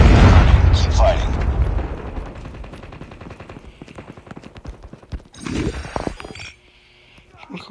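A Predator missile explodes in a first-person shooter game with a heavy, booming blast that rumbles and fades over a few seconds, followed by scattered gunfire and a second crackling burst, while a voice talks over the action.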